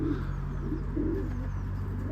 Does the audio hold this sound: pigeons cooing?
yes